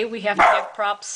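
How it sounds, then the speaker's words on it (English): A pet dog barks and yips a couple of times close by, short sharp bursts mixed in with a person talking. "That was my dog."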